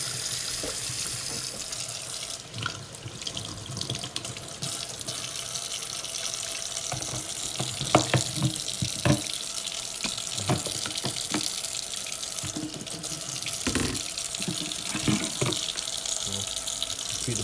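A kitchen tap runs steadily while peeled shellfish are rinsed for hotpot, a continuous close splashing hiss with brief uneven spatters as the water strikes hands and the shellfish.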